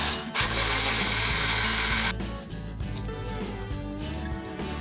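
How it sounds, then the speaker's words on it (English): Ratchet wrench working on the front brake caliper bolts of a KTM 1290 Super Duke R motorcycle, with a loud burst of noise early, then quieter clicking and mechanical rattles close by. "So let's get into it and crack these bolts off."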